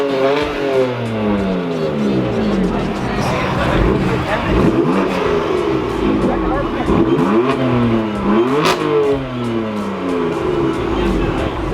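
A BMW car engine revving close by, its pitch repeatedly climbing and falling in loud, continuous bursts that fill the whole stretch.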